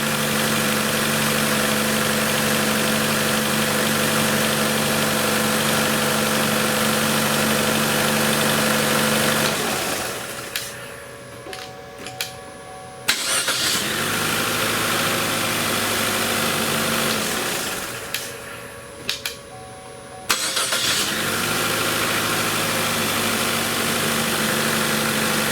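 A Chevy Cruze engine idles steadily after an engine swap, a loud, continuous mid-pitched drone that twice drops away for a few seconds before resuming, with no talking.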